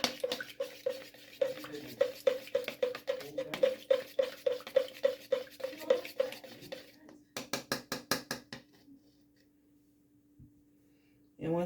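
Oils for a hot oil hair treatment are stirred in a small container: a steady run of close clinking strokes, a short pause, a quicker burst of strokes, then near silence.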